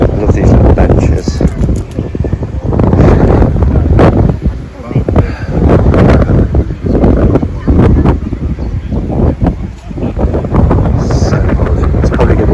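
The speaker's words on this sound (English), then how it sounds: "So it's probably going to be very windy." Strong wind buffeting the microphone at Oxford Head, a coastal clifftop viewpoint with benches, roaring loudly and continuously with gusty surges throughout, a voice faintly present underneath.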